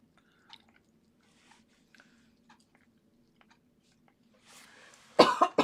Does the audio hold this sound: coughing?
yes